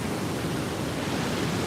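Niagara River rapids near Niagara Falls roar in a dense, continuous broadband rush of churning water, loud and steady with no voices.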